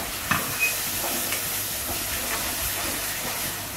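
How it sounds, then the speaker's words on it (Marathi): Tomato paste from two tomatoes poured over browned onions in hot oil, giving a loud, steady, close sizzle and hiss with faint stirring scrapes throughout. "आता त्यामध्ये ते आपण 2 टमाट्याची पेस्ट करून घेतली ती टाकू।"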